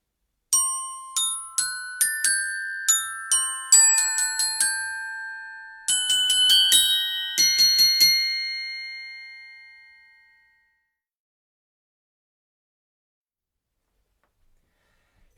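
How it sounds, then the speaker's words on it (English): Bright metallic glockenspiel tones struck with hard mallets one after another in a quick melodic run, each ringing sharply, then a final chord decays into silence. "The glockenspiel is also called the bells."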